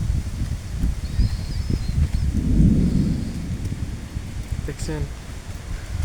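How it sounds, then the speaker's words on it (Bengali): Strong, cyclone-like wind blowing outdoors beside a village pond, a steady roaring rush with gusts that swell midway, heard under continuous talk from a nearby speaker. "আর আশেপাশে দেখেন পুরো ঘূর্ণিঝড়ের মতো বাতাসে"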